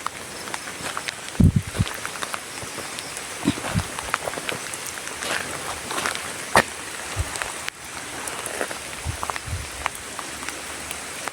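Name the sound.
light drizzling rain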